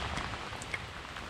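Pouring rain pattering steadily on the water and surroundings during a fishing trip, a dense, even hiss with a few louder drops, close and without speech.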